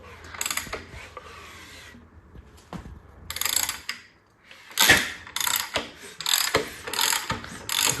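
A big-cubic-inch Clevor engine turned over slowly by hand, giving repeated ratcheting, grinding mechanical clicks in bursts separated by brief pauses, close and fairly loud.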